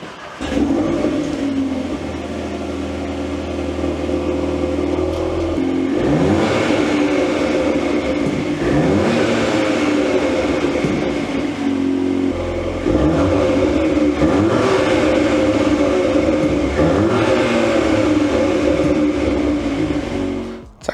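A VW Golf R MK8 with a CTS valved catback exhaust starts up and settles into a loud, steady drone close by. Throughout it there are several surging swells in the exhaust note, with no talking.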